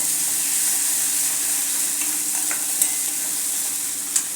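Chillies and garlic sautéing in oil over a low gas flame give a steady, close, soft sizzle, with a couple of faint stirring clicks near the end and no talking.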